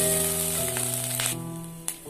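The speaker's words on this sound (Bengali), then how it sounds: "আদাটাকে কয়েক সেকেন্ডের জন্য ভেজে নেব, তাহলে কাঁচা গন্ধটা থাকবে না।" Ginger paste fries briefly in oil, giving a soft, even sizzling hiss with a steady humming tone beneath it and a short clack near the end.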